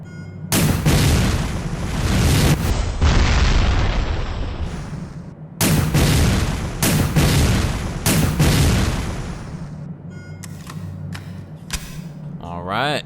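Grenade launcher blasts in Resident Evil: Dead Aim, a series of loud booming explosions with rumbling low-end tails, several separate detonations spaced a second or two apart, then a quieter stretch with small clicks and pops.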